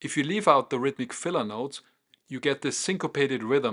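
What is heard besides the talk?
No everyday noise stands out behind the speech.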